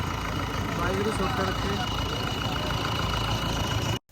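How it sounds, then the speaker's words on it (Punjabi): A Sonalika tractor engine runs steadily at a village tractor event in Ludhiana, Punjab, a loud continuous low rumble throughout that cuts off abruptly just before the end. "ਬੂਟੇ ਵੀਰੇ ਵਾਲਾ ਟਰੈਕਟਰ ਚੱਲਣ ਲੱਗਿਆ ਹੁਣ"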